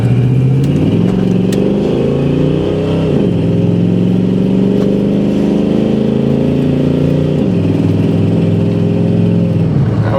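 A 1989 Chevy Blazer K5 engine accelerates hard from inside the cab, loud and close, its pitch climbing through two gear shifts with brief dips before rising again.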